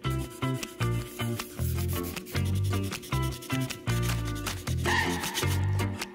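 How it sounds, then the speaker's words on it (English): Light sanding of a resin coating by hand with 320 grit sandpaper, heard as close, loud, rhythmic rubbing strokes that repeat in short bursts with brief pauses, with no speech. "So we're using 320, and we're gonna just lightly sand everything"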